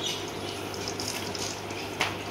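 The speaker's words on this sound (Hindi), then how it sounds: "इस तरीके से ये पानी आने लगेगा इसके अंदर" Water pouring steadily into a home aquarium during a partial water change, a continuous soft splashing rush with a brief louder splash near the end, fairly quiet.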